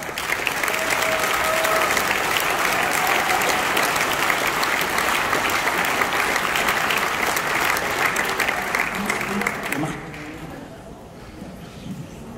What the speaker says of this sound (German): Und gleich gibt mal einen richtigen Applaus für unsere Kunden, die hier extra angereist sind.